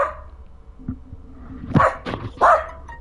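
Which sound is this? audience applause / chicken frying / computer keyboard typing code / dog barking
dog barking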